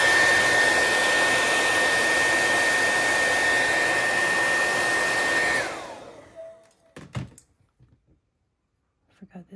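A hair dryer blows over wet oil paint on a burning candle painting, a loud steady whir that winds down and cuts off, followed by a few soft clicks and knocks in near silence.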